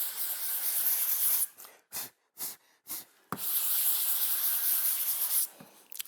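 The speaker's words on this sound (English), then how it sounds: "You can cover a lot of the sprocket if you do it on a long board sanding block" Rhythmic rasping strokes of hand sanding a metal dirt bike sprocket on a long board sanding block, a long steady scrub broken by several short separate passes, close and fairly loud.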